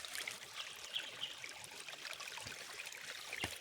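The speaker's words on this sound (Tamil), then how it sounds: "இந்த ஓடை வந்து கீழே வரைய போகுது." A natural hillside stream on a mountain in Tamil Nadu, recorded close up: a steady, bright rush and babble of flowing water with small splashes, with no voices.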